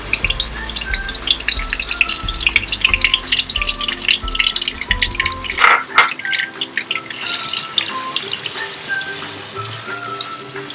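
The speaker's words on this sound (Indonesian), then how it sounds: "Setelah minyak panas, maka kita campurkan bumbu yang sudah dihaluskan." Ground curry spice paste sizzles and crackles in hot frying oil for a meat curry, a steady close sizzle with scattered pops and spatters throughout, no talking.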